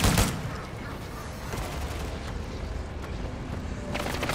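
Sustained gunfire in a Call of Duty: Modern Warfare III match, a dense rolling barrage with sharper bursts at the start and near the end, a voice heard faintly under it.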